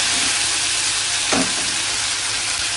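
Ginger paste stirred lightly in a little hot oil while cooking khichuri, giving a steady close frying hiss with one brief louder stir or scrape partway through.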